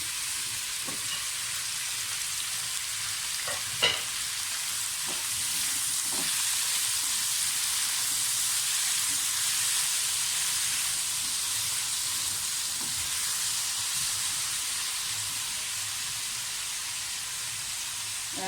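Tomatoes and green chillies fry in a pan for chutney, giving a loud, steady sizzle and hiss that runs throughout with no talk.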